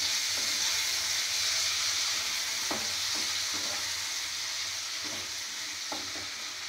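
Tomatoes fry in a pan for an Odia-style tomato chutney (khatta), giving a continuous bright sizzling hiss with a few faint stirring taps, no talking.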